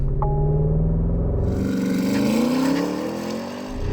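A Porsche Cayenne Turbo GT with an 8-speed automatic makes a launch-control start: a loud, close engine roar rises in pitch through the revs, then drops at a gearshift and climbs again.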